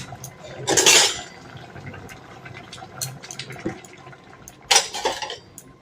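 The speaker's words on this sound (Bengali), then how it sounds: "ততক্ষণ আমি কড়াতে আবার ঢেকে দিলাম।" A metal lid clatters onto a kadai, with two sharp, bright clanks, the second near the end, set against quieter kitchen clinks and a faint wash of water.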